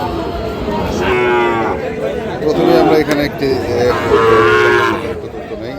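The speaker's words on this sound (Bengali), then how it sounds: "আপনারা দেখছেন এখানে যে সাইবল জাতের মাছুর গরুগুলো প্রায় বিক্রয় করার জন্য" Sahiwal cattle low at the Ambari haat cattle market, with a few moos rising under someone talking close by and a murmur of crowd noise.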